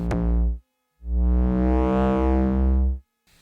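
A deep synthesized bass tone with a bright, sweeping harmonic ping from a wave folder, one short note followed by a longer sustained one that swells and fades.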